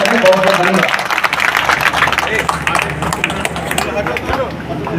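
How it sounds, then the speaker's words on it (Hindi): A crowd at a three-day event in a Kabir math applauds the arrival of a deputy chief minister, loud sustained clapping mixed with a murmur of voices and hubbub throughout. "एक बार चाहेंगे कि जोरदार ताली बजाकर उनका स्वागत करें।"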